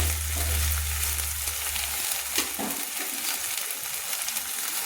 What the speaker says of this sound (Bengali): দিয়ে ভালো করে আদা রসুনটাকে আমি তেলের সঙ্গে কষিয়ে নিচ্ছি